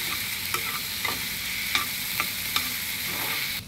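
Spices fry in hot oil for a Jaffna-style eggplant curry, sizzling and crackling steadily, with a few soft clinks of stirring rising above the constant hiss.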